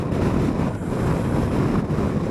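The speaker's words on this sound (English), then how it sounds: "It's really, really windy, guys." Strong wind buffets outdoors in a constant, loud, rumbling gust noise with the roughness of wind hitting a nearby microphone, steady for the whole short stretch and with no voices.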